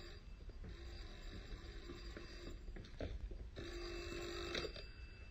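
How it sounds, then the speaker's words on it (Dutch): An office telephone rings in a Dutch radio drama, a faint, repeated electronic trill in two bursts over a steady low hum, with no talk. "telefoon van bureau"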